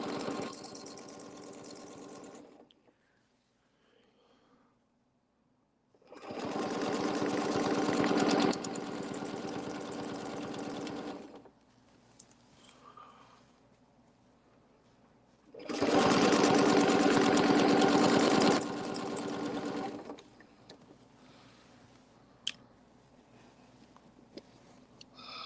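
A sewing machine hums in two long stitching runs of several seconds each, steady and close, with quiet gaps of faint room noise between them.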